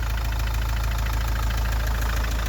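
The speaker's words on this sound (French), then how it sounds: "donc 3 litres 170 chevaux, il a démarré au quart de tour, le moteur était froid" A 3-litre, 170 hp diesel engine in a camper van idles steadily after a cold start, a loud, close, continuous rumble with an even low throb and a fine clattering pulse throughout, no voices.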